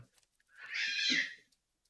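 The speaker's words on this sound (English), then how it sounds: "Cats are fighting." A cat's drawn-out yowl during a cat fight, a single rising and falling cry of about a second, heard faintly at a distance in an otherwise quiet room.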